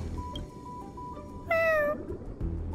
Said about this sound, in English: What's that sound out there? Sounds like purring.